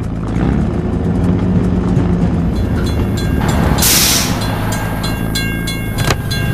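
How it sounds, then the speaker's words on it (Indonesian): A train rolls through a closed level crossing in a vehicle video game, a steady loud rumble of wheels and cars that continues throughout with no talking. "Gerbang penyeberangan ditutup. Kita harus menunggu hingga kereta lewat."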